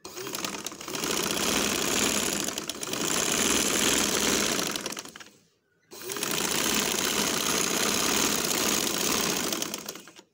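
A motorized sewing machine stitches fabric in a loud, close, continuous whirring run, stops briefly, then starts again for a second equally steady burst.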